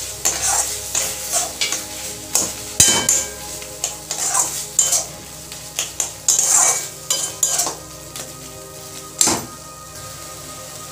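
Ground shrimp paste stir-fried with spices in a pan sizzles steadily while a spatula scrapes and clatters against the metal in repeated, irregular strokes, close and fairly loud with no talking.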